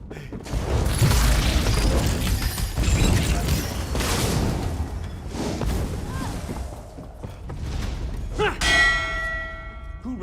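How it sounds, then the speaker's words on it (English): A large bell clangs out in a fantasy mine setting in Elder Scrolls Online, ringing amid rumbling booms and game effects, with character voices talking around it and a bright resonant strike near the end. "Who rang the bell?"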